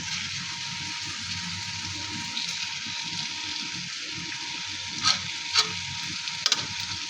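Koi fish being added to shredded cabbage frying in a pan, a steady close sizzle throughout with a few brief sharp clinks or splashes near the end, no talking.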